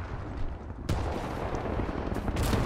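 Gunfire in the video game Titanfall 2, played in multiplayer, a dense continuous rattle of shots with a sharp burst near the start and more bursts toward the end, loud and alone.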